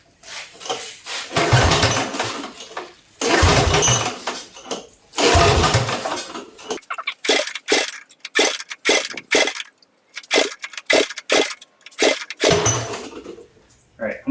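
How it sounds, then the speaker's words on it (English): A straight-piped 16 HP V-twin engine on an off-road go-kart is cranked over repeatedly, with loud pull-start bursts followed by a run of sharp popping, sputtering attempts that never settle into a steady idle. "so let's see if this thing will start up."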